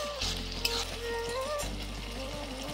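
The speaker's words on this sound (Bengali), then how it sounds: "রসুন আর পেঁয়াজকে একসাথে খুব ভালোভাবে ভেজে নেব।" Garlic paste and onion fry together in a pan for prawn malai curry. A faint, steady sizzle sits under a low humming drone with a few tonal wavers.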